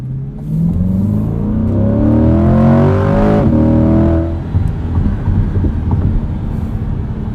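A 2020 Chevrolet Corvette Stingray coupe drives along with a loud, steady engine note that swells and shifts pitch midway, then settles into a lower, rougher rumble with road noise from inside the cabin.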